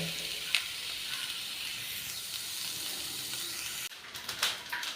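Green chillies sizzle steadily in hot oil in a pan, a continuous close hiss with a brief scrape of stirring near the start and a louder burst of stirring and sizzle toward the end.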